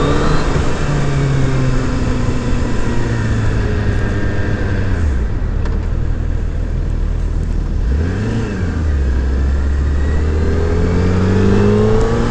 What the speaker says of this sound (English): I got a few pulls with the throttle wide open, and I got to engage the quick shifter